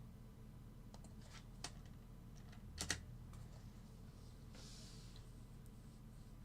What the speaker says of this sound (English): That other guy said he hated my typing too.